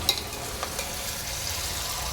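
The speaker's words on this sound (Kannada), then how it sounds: "ಈರುಳ್ಳಿ, ಬೆಳ್ಳುಳ್ಳಿ, ಹಸಿಮೆಣಸಿನಕಾಯಿ, ಎಣ್ಣೆ ಎಲ್ಲನೂ ಅದಕ್ಕೆ ಮಿಕ್ಸ್ ಆಗೋ ಥರ ಕೈಯಾಡಿಸ್ಬೇಕು" Onion, garlic and green chili are stirred in hot oil, giving a steady close sizzle with a few faint scrapes, and no voices are heard.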